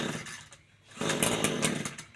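A small two-stroke engine on a Shindaiwa T236TS brushcutter sputters briefly as it is cranked, dips, then catches and runs with a rough, buzzing drone for about a second, close by.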